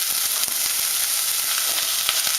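Onions and chopped eggplant fry in olive oil in a pot with a steady, close sizzle and crackle, small pops scattered throughout and no talk.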